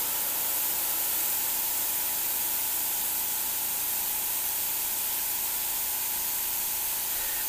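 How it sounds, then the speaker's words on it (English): An airbrush sprays continuously at close range for the whole stretch, a steady, even hiss with no pauses and no talking, while fine dots are laid down. "This is how you know your airbrush is working really, really good."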